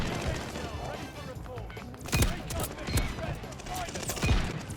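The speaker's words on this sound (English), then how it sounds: "I actually love the sound of this PTRS." A PTRS anti-tank rifle in a video game fires several loud, sharp shots at irregular intervals amid a busy, noisy battle background with other gunfire and chatter.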